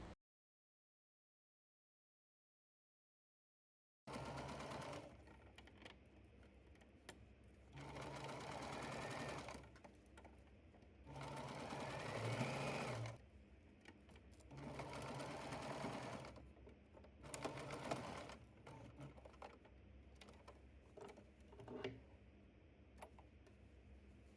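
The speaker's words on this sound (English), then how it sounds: "After you're done, sew the pinned area." A sewing machine stitches the pinned seam of a fabric make-up bag, starting after a few seconds of silence and running in several steady, close bursts with short pauses between them.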